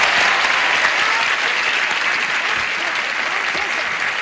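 A studio audience at a 1977 game show taping gives a loud, dense round of applause, a continuous wash of clapping from many hands without a break.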